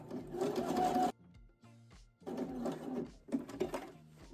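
A sewing machine stitching a repair on leggings in three quick runs of rapid whirring needle strokes, separated by short pauses with faint clicks, close and fairly quiet.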